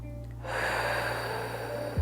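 A single deep breath during a workout session: a quiet lead-in, then a long airy inhale that fills most of the moment, closing with a short forceful exhale.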